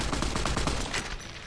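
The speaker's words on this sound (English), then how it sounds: "let's try point-blank shotgun" Point-blank shotgun fire in the Fallout: New Vegas video game, a loud, dense volley of rapid booming blasts crowding one after another across a second and a half, with no voices over it.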